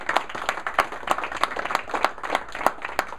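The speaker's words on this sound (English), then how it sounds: "Let's get another round of applause." A studio audience claps for a radio show. The applause is brisk and fairly close, with distinct hand claps in a loose rhythm over a few seconds.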